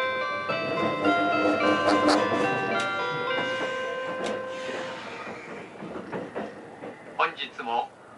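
The JR East Tokiwa limited express train to Katsuta pulls out of Shinagawa Station, sustained tones ringing over a low rumble that gives way to clatter, with brief voices near the end.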